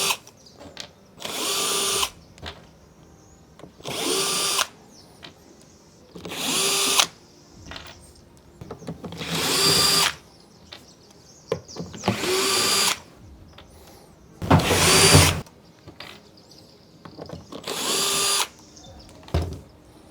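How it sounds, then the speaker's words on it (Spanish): A Bosch power drill used to take apart an Electro-Voice ZLX 15P G2 powered speaker, whirring in about eight loud bursts of one to two seconds each, with quiet gaps of handling noise between them. "Vamos a utilizar este taladro Bosch"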